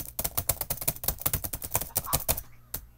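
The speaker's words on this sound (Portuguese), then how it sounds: "Volta pra ouvir o teclado." Rapid, crisp key clicks in a steady rattling stream, close and fairly quiet, trailing off into a couple of final taps.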